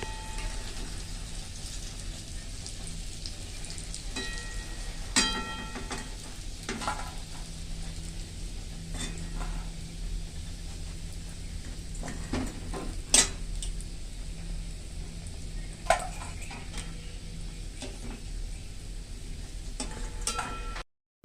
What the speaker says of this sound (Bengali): এইভাবে একটু হালকা করে করে কম আঁচ করে ভেজে নিলাম।